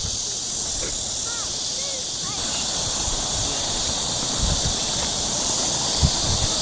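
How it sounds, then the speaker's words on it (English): Cicadas and other insects in an outdoor garden at Dodong Seowon in Daegu, a dense, continuous high buzzing drone that holds steady and loud over faint background sounds. "And you can also hear cicada sound and other sound of insects."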